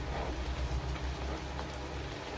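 Naan bread fries in a pan, giving a faint, steady sizzle that sounds like light rain and carries a low background rumble. There is no talking.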